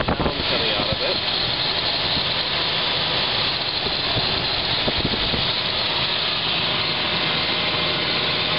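A Ford Explorer engine idles with its alternator running and not charging, a steady, even mechanical hum and whir heard up close without a break.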